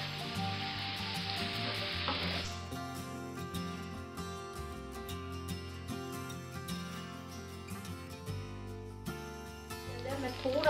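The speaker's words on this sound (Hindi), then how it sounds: "अच्छी तरीके से इन सारी चीजों को हाई फ्लेम पे आप मिक्स कर लीजिए।" Vegetable spaghetti stir-fried on high flame with soy sauce and red chili sauce, a continuous sizzle under clinking, scraping tossing sounds in the pan, fairly close and steady throughout.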